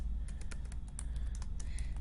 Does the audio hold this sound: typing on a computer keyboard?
yes